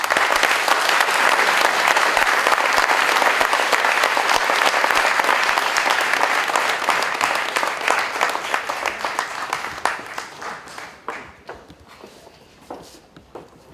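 A thunderous round of applause from the audience at an opening ceremony in Villejuif, dense and steady at first, then thinning into scattered individual claps as it fades out.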